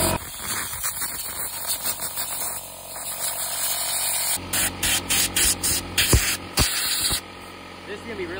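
Loud hissing blasts of compressed air cleaning dust from a projector's fan, first a sustained spray and then a quick series of short, sharp bursts.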